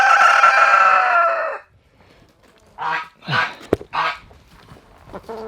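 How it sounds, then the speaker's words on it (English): Goose honking among farm chickens, a loud drawn-out honk or crow up front, then several shorter close squawks and clucks after a brief pause. "She's a guard goose."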